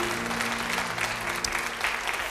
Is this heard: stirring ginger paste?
no